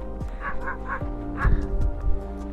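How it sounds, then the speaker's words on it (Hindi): Dogs in a snowy, extremely cold mountain campsite give several short yips and woofs that rise and fall, close by over a steady low background hum. "बहुत ज़्यादा कुत्ता है यार यहाँ पे, हाँ शेर जैसा कुत्ता है"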